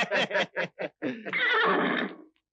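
A horse gives a loud, close whinny, a run of rapid rising pulses that slides into a long, harsh neigh before trailing off, heard alone without speech.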